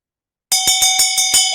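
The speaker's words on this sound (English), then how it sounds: "That's a bell." A bell rings out close and loud over an online call: about six bright metallic strikes in a quick, even rhythm, each with a long shimmering tone that rings on under the next.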